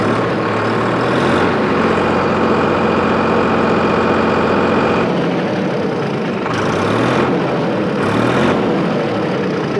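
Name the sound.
Solis 4415 tractor engine idling then revving up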